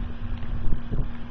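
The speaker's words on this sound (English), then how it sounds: "It's a bit windy out here" Wind blowing outdoors, buffeting the microphone in uneven gusts with low rumbling swells, with no voices heard.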